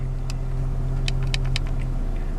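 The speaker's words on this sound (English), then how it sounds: "Engine's revving at just under 1000." Steady low hum of a Mazda RX7 FD rotary engine idling nearby at just under 1000 rpm, with a few faint clicks and ticks over the constant drone.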